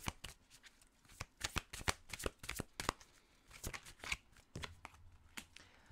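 Tarot cards are shuffled by hand before an advice card is drawn, giving a close, quiet series of riffling flutters and soft slaps in an irregular rhythm.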